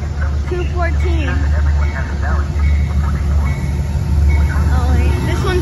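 A Metro-North commuter train bound for Croton-Harmon at Yonkers, New York rumbles steadily nearby with a low, constant drone, while people talk over it throughout.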